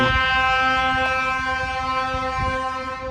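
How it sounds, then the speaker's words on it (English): A railway geometry train rumbles steadily in reverse into a rail yard, with a sustained, droning tonal hum, like a locomotive engine at low speed, with faint clanks and no voices. "the geometry train went around the Y where that derailment was at, and now they are reversing"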